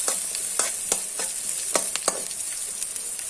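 Aloo matar gassi masala roasting in a pan, a soft continuous sizzle broken by quick scraping stirs of a spoon at an uneven rhythm, close and without voices.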